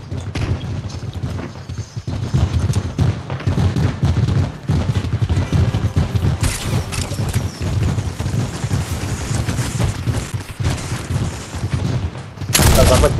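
Rapid, sustained gunfire from the video game Fortnite fills the whole stretch, dense overlapping shots at steady loudness with a sharper burst near the end.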